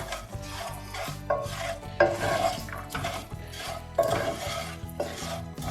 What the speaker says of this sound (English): Once the jaggery is melted, add makhana and give it a good toss.